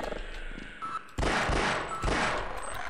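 Loud weapon fire in Half-Life, the classic first-person shooter, comes as heavy booming bursts with a couple of sharp onsets over a dense noisy backdrop, with no talking.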